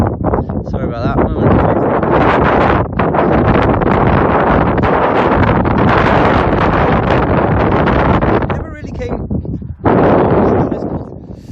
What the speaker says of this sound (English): Oh, that wind's picked up.